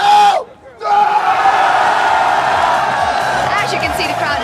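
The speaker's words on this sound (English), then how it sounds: "the crowd is absolutely hyped for a big day" A large crowd at an LCS esports event roars and cheers loudly and continuously after a brief dip, with shouting voices and chants rising over the din.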